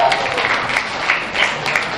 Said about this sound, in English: let's give our intermediate showman a round of applause